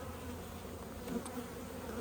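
Honey bees buzz steadily around an open hive colony during a beekeeping inspection, a dense continuous hum filling the air up close without pause.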